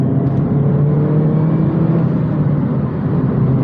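Stock R56 Mini Cooper S engine accelerating, heard from inside the car as a loud, steady droning hum with rising tonal whine and road roar, continuous and close with no talking.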